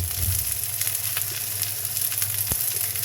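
Panta rice fritters, shaped like onion pakoras, fry in oil with a steady close sizzle and bubbling crackle throughout, broken by a brief sharp tap near the end.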